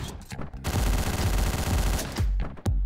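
Rapid automatic gunfire from the Hotline Miami video game bursts loudly and nearly continuously for about two seconds, followed by a few separate shots.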